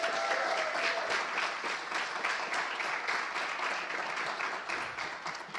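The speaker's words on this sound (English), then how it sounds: "can I get a big thank you and applause for the Center for an Urban Future staff?" Sustained applause from an audience at a Brooklyn event, dense steady clapping that holds loud throughout before easing slightly at the end.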